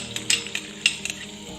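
Ginger and curry leaves tempering in ghee in a pan make a light sizzle, with a few quick metallic clinks and scrapes of a spoon stirring close by.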